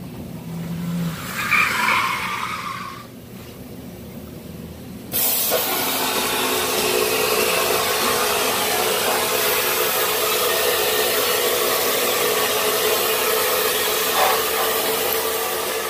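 A vapor honing machine blasts an engine intake and cylinder heads, first a muffled hiss with an airy burst, then a sudden switch to a loud, steady, broadband spray that runs evenly to the end.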